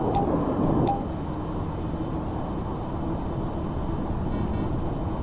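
Fighter jet in the flight game VTOL VR climbing away after a takeoff: a steady, loud engine roar fills the clip, with a slightly stronger burst in the first second, and no one talks.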